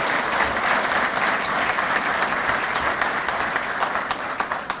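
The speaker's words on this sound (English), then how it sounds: "Can we give the family and friends a round of applause?" Sustained applause from family and friends gathered at a military badge graduation ceremony, loud and steady dense clapping throughout with no talk over it.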